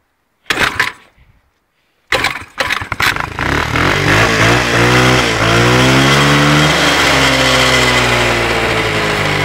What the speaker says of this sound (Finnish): Se laskee kierrokset paljon hitaammin nyt kun tuota ruuvia on kiristänyt.